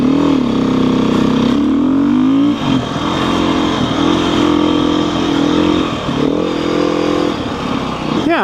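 A dirt bike engine revs and drones loudly and close, its pitch rising and dipping as the rider pulls away, with no talk over it.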